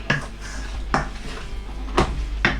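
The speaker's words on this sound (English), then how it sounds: "Now switch off the heat, give that a stir round." A spoon works through pasta primavera with grated Parmesan in a pan taken off the heat, giving four sharp clanks and scrapes against the metal at uneven intervals over a low steady hum, with no talking.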